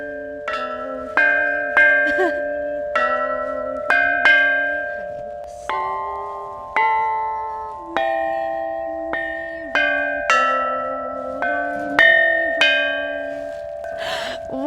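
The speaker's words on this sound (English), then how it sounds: "After learning how to play the chime bells, I'm so excited to learn more about the history of them." Ancient Chinese chime bells are struck one after another in a slow melodic line, each tone ringing clearly and decaying before the next, loud and close with no talk.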